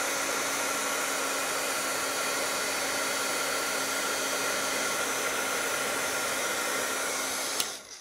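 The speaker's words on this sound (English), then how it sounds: "I'm going to hit it with a heat tool for just a second until it turns shiny" Heat tool warming embossing powder until it turns shiny, a steady, even whooshing blower hiss held for several seconds before a small click as it shuts off.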